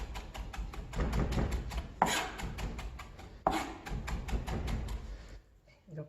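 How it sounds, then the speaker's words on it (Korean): A kitchen knife rapidly mincing ingredients on a cutting board with a rocking chop, in quick rhythmic close taps with a couple of louder strikes, over a quiet room before the chopping stops. "작두 썰기로 다져주기"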